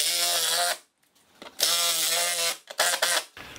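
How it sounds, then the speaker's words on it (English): A cordless impact wrench with a 7/16 bit drives number 14 sheet metal screws into a pole barn garage door, giving three loud, close buzzing bursts with short pauses between them. "I found it so much easier using the impact wrench with a 7/16 bit in it to run all these screws in."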